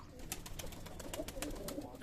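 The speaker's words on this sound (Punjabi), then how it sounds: "ਕਬੂਤਰ ਖਾਸੇ ਆ ਗਏ ਬਾਈ ਆਪਣੇ ਕੋਲ" Pigeons kept for sale coo softly and repeatedly in a low, muffled chorus, with faint rustling underneath and no talk.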